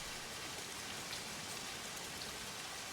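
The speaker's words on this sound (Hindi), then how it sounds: "बहुत बारिश भी हो रही है" Heavy rain pours steadily outside a house, a dense, even hiss of falling drops on surfaces that stays constant throughout with no voices.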